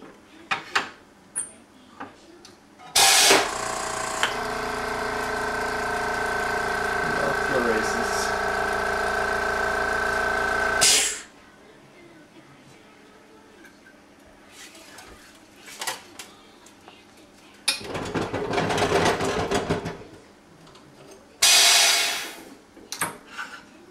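A P200 racket stringing machine works through a long steady motorized whir of tensioning, bracketed by clunks and clicks of clamping, with more short mechanical bursts and sharp knocks after it; a person talks briefly in between.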